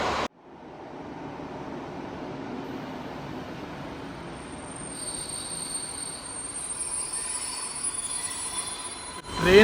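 Train pulling into a station in Novi Sad, Serbia, a steady rumble of wheels on rails with a faint high squeal building toward the end, continuous and moderately close, no talking.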